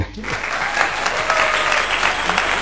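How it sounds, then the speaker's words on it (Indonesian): Loud, dense applause from an audience during an Indonesian livestream, a continuous wash of clapping that starts abruptly and holds steady throughout. "Tepuk tangan."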